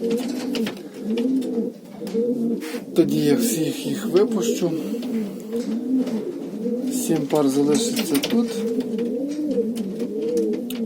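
Mating pigeons coo continuously in a low, rolling chorus close by, while someone talks over them in Ukrainian.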